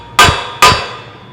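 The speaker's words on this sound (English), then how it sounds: "we're going to just tap these Delron bushings into place here" Two sharp hammer taps driving Delrin bushings into a Polaris Turbo S suspension pivot tube, close and loud, each with a short ringing decay and no talking.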